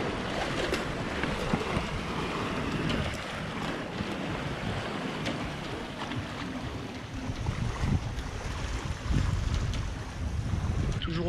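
Sailboat running downwind off Menorca in 10-12 knots of wind, with continuous rushing water along the hull, wash of small waves and gusty wind buffeting the microphone, steady and close.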